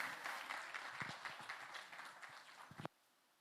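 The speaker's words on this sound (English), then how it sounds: "A round of applause, ladies and gentlemen." An audience claps for a speaker welcoming them onto the stage at a fintech competition semi-final. The applause is a steady wash of many hands with a few sharp nearby claps, and it cuts off abruptly near the end.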